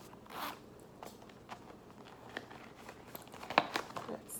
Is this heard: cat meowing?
no